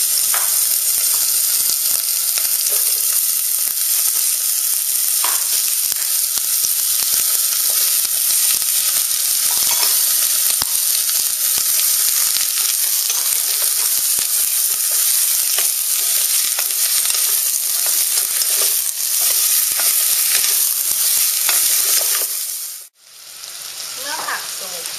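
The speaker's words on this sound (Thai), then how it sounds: "ผัดเนื้อวัวและผักให้สุก" Thin-sliced beef and vegetables stir-fry in vegetable oil in a hot pan, a loud steady sizzle with faint stirring scrapes, continuing without pause until it briefly drops near the end.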